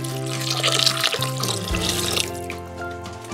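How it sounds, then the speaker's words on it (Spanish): Hot water pours from a container into the bowl of a Monsieur Cuisine food processor while a macaroni and minced meat sauce is being made. The pour is a loud, close, continuous splash that tapers off partway through. "incorporamos el agua caliente"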